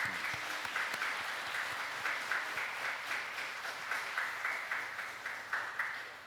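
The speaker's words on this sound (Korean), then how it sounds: "하나님께 영광의 박수 올려드리겠습니다" A church congregation applauds during a Sunday anniversary service, a steady, rhythmic wash of many hands clapping together, somewhat distant and faint, with no voices over it.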